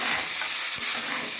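Green chilies, almonds, dates and plums stir-frying together in a pan make a dense, close hiss and sizzle, with a brief scrape of stirring partway through.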